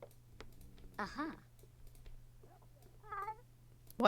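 A cartoonish cat meows a few times in The Sims video game, short clear calls spaced apart over faint clicking and a low steady hum.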